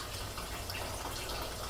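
Water is poured into a small saucepan holding jelly while making a glaze for fruit tarts, a soft continuous trickling rush, close and steady throughout.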